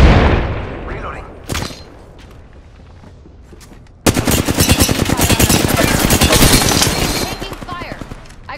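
Rapid automatic gunfire in Apex Legends, a loud sustained burst of fast shots after a quieter stretch with an earlier single crack, continuing for several seconds.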